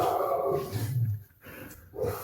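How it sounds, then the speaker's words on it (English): A guard dog named Ezra barks in the background, a few short, gruff barks at moderate distance, with no talk over them. "guard dog doing work"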